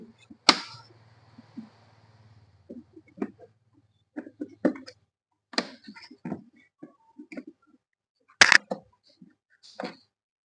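A plastic air filter clip on a Maruti Zen Estilo is pressed into its hole. Scattered sharp clicks and snaps sound close by, separated by stretches of near silence.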